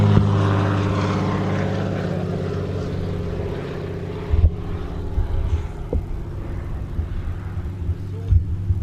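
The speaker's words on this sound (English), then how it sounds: "And rolling down the runway, John Romain in the de Havilland DHC-2 Beaver, showing what short takeoff and landing is all about." De Havilland DHC-2 Beaver propeller plane taking off down the runway at an airshow, a steady droning engine and propeller roar heard at moderate distance with a few sharp bumps of nearby noise.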